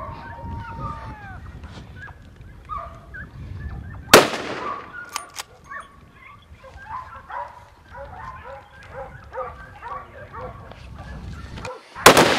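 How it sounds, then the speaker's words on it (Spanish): A rifle gunshot rings out at a Spanish driven deer hunt among holm oaks, one sharp loud crack midway and another right at the end, amid barking hunting dogs and faint outdoor voices. "efectúan un primer disparo que le alcanza en el pecho"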